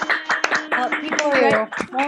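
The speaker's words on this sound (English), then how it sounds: "let's unmute really quickly so we could give everybody a round of applause, and give yourself a round of applause" Scattered clapping from participants on a virtual Burns Night video call, uneven and overlapping bursts of applause with tonal voices and cheers mixed in.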